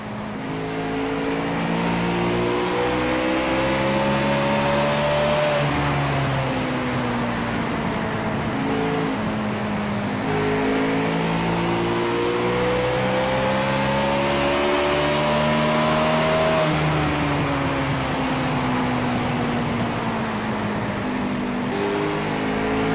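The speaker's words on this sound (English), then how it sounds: "Let's hear those engines." Race car engines roar loudly on a track, pitch climbing in long sweeping rises, falling back and climbing again as several cars rev and pass close by, with no talking.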